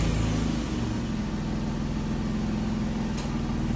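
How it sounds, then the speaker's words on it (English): Steady, raspy exhaust note of an Infiniti Q60 fitted with a lower down pipe, idling with a deep low rumble, loud and close, running evenly throughout with no talk. "Play this short exhaust clip that I took after putting on the lower down pipe"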